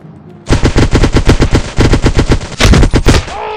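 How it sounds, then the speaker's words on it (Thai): Rapid automatic gunfire rings out in the GTA roleplay game, a loud close burst of about twenty evenly spaced shots with a brief pause near the middle before a final quicker volley. "เออใครยิงกูใครยิงกู"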